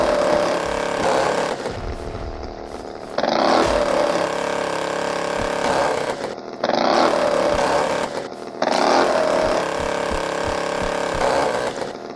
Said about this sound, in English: Love the chainsaw.